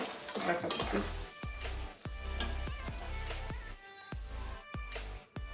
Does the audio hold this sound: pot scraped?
yes